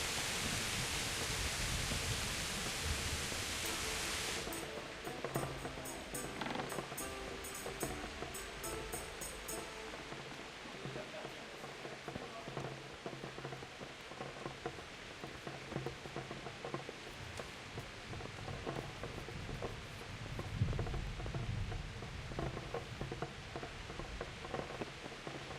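Rain falls in the video game Kingdom Come: Deliverance, a soft continuous patter and hiss lasting throughout, faint and even with a brief low rumble late on.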